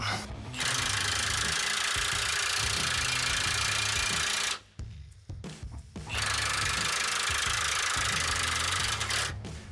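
A cordless drill drives a trailer tongue jack with a steady motorized whir, close and fairly loud. It runs for several seconds, stops briefly, then starts again and runs to the end, with no talking.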